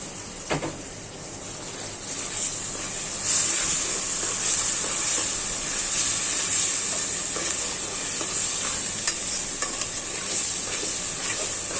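Ginger-garlic paste sizzles and spits in hot oil for biryani while a spoon stirs it steadily, a loud, close, continuous frying hiss with scraping strokes throughout.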